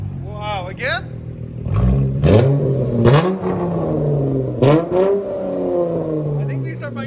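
Several quick, loud throttle blips come from a Dodge Charger's 3.6L V6 running Dynomax mini bullet resonators, each rising sharply and dropping back to a steady idle hum, with brief talking at the start and end.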